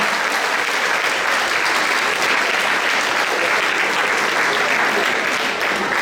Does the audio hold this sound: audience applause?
yes